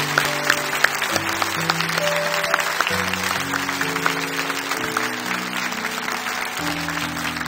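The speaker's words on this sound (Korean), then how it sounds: "우리 다시 한 번 더 큰 박수로 축복하면서" A Korean church congregation claps steadily through a service while sustained keyboard chords shift underneath, the applause even and moderately loud throughout.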